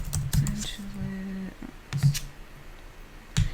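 Quick bursts of typing on a computer keyboard, a few clustered key clicks separated by short pauses, close and fairly clear alongside a faint tonal background sound.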